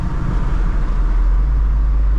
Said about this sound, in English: I'm gonna try out the paddle shifters under this overpass